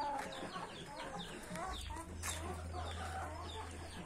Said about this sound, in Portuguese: Ele é um galo bonito